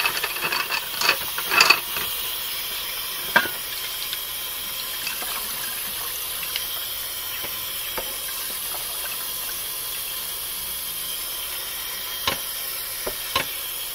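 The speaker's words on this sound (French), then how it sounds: "Je vais tout rincer et on va regarder ça." Water runs steadily from a tap while items are rinsed, a continuous hiss broken by occasional clinks and splashes of handled objects, fairly close and with no talk.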